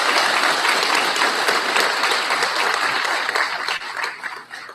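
A graduation ceremony audience fills the hall with loud, dense, sustained applause that holds steady, then thins and fades near the end.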